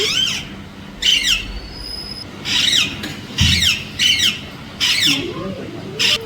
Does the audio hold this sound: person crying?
no